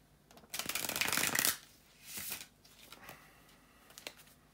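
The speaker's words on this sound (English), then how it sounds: "bear with me a second, guys, to shuffle the tarot cards" Tarot cards being shuffled by hand: one loud, dense riffle lasting about a second, followed by a softer shuffle and a few faint card taps, close up with no talking.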